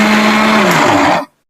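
A mixer grinder whirs loudly as it coarsely grinds sugar, its motor whine steady and then dropping slightly in pitch before it stops abruptly after just over a second.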